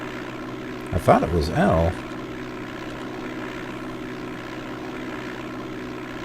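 A propeller aircraft's engine drones steadily at takeoff power in DOS Flight Simulator 5.1, the constant hum running throughout while a voice briefly speaks over it near the start.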